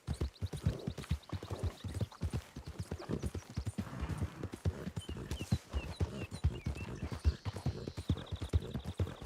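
Rhythmic clip-clop of horse hooves trotting steadily in a Western-themed video game, close and continuous, with faint chirping tones above and no talking.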